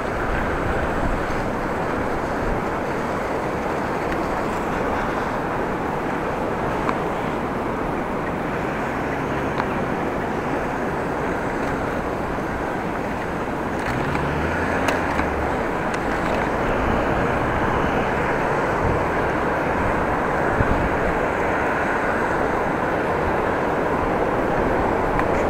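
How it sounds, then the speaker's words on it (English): Steady, loud wind buffeting the microphone of a cyclist riding a Dutch bike, a broad continuous rumbling roar that fills the whole stretch with only small fluctuations and no voices. "Wind, wind, wind. I don't like wind."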